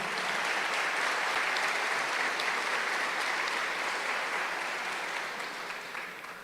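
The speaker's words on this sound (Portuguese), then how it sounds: "Vamos dar um aplauso bem forte a Ele" A church congregation claps loudly and steadily for several seconds, an even, dense wash of applause that tapers slightly at the end.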